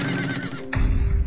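A horse whinnies in the Star Stable video game, a short, close neigh that breaks off into a low snort and shuffling, with no talk.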